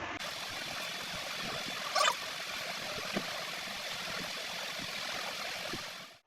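Running water flows steadily from a tap as someone washes their face, a continuous close hiss with a brief splash partway through, then cuts off at the end.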